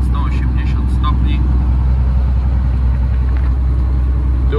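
Vehicle cruising on an empty highway in cold weather, with a steady loud engine and road rumble continuing throughout, under faint background voice or cab sounds.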